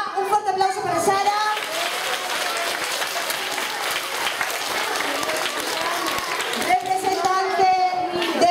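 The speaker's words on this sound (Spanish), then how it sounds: "Un forte aplauso para Sara" Audience at a school talent show applauding a jury member: loud, dense clapping and cheering from a crowd fills the middle seconds, with an adult speaking over a microphone before and after and children's voices mixed in.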